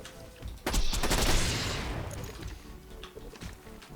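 A burst of sniper rifle fire in Borderlands 2 cracks loudly, with several rapid blasts that smear into a dense crashing roar and then decay into scattered impacts over a noisy battle bed.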